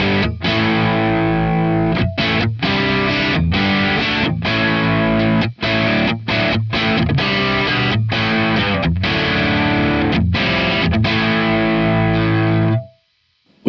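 Electric guitar played through a Boss DS-1 distortion pedal, a loud, continuous saturated crunch of strummed chords with brief gaps between hits, ending with a quick fade to silence.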